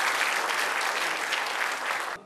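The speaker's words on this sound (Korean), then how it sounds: "박수 많이 해주세요." An audience at a festival for artists with severe disabilities claps loudly and continuously in a brief burst that cuts off abruptly at the end.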